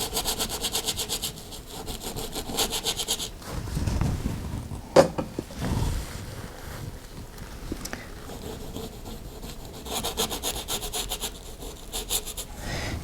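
A scrubbing paintbrush worked firmly across a painted canvas, making repeated close, dry scratchy strokes in bursts with short pauses, with no talking.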